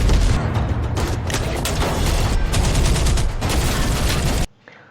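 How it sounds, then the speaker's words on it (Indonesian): A film gunfight with RPG fire: dense, loud, continuous gunfire and explosive booms roar for several seconds, then cut off abruptly into a faint rumble. "si Gray langsung menembakkan RPG-nya hingga terjadilah baku tembak"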